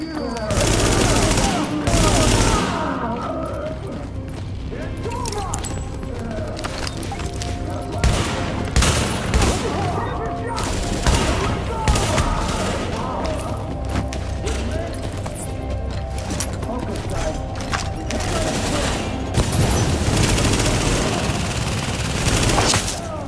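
Bursts of automatic gunfire and rapid shots crackle through a subway morgue fight in Tom Clancy's The Division, loud and sustained over several seconds with repeated volleys and game effects.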